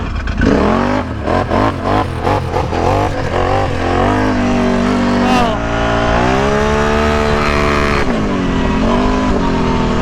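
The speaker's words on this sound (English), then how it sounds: "You can kind of hear the RPMs jump up when I hit full throttle." A Can-Am Renegade ATV engine fitted with nitrous revs hard, pitch climbing in repeated surges toward full throttle, loud and close with a roaring, buzzing tone.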